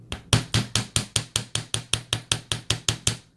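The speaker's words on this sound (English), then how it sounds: "So we're gonna hammer this end and these curves." A smooth steel hammer strikes the curves and end of a wire toe ring, about fourteen sharp metallic taps in a fast, steady rhythm, close and clear with nothing else audible.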